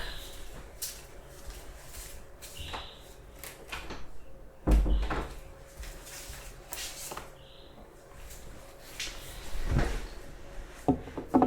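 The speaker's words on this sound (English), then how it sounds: "Let me close my door really quick." A door closed indoors during a quiet ASMR session, with soft wooden knocks and a latch thud near the middle, then faint shuffling and rustling close by.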